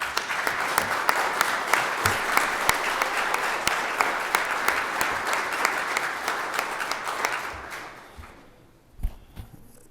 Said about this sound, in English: I think we owe them a round of applause